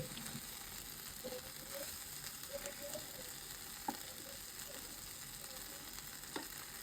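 Kachki fish and potatoes fry in hot oil, giving a steady, moderately faint sizzle with a few soft pops and crackles scattered through it. No one speaks.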